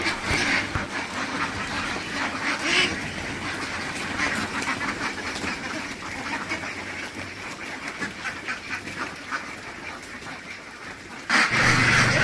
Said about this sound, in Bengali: আজকে তারা পরিপূর্ণ হাস ওই যে দেখেন মিছিল সরে গেছে এখন তাদের কথা শুনি